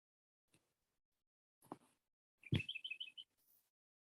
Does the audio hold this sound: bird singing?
yes